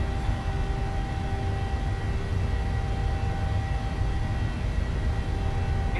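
Boeing 737 jet engines at takeoff thrust in a flight simulator, a steady, loud broadband roar with a constant whine running through it and no let-up.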